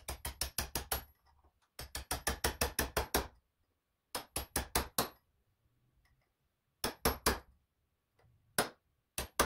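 Hammer blows on a drive shaft yoke during a double Cardan drive shaft rebuild, struck in quick rhythmic bursts of sharp metallic hits separated by short pauses, close and loud with no talking.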